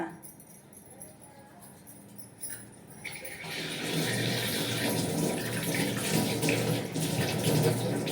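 Tap water runs over a lamp being washed clean of green discoloration. Faint handling noises come first, then a loud, steady gush of running water for the last five seconds.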